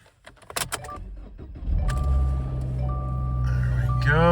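A salvage 2018 Subaru Impreza Premium starts up: a few clicks and key sounds, then the engine cranks and catches into a steady, close idle.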